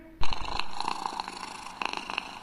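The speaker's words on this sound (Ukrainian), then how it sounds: "Муркоче наш котик." A cat purrs close up, a steady low rumbling rhythm with soft pulsing breaths, continuing throughout.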